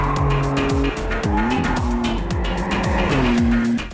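A Maserati convertible with 630 hp is driven hard on the Zolder race circuit. Its engine wails loud and close, climbing through repeated upshifts with sharp gear-change drops and a rasping exhaust tone.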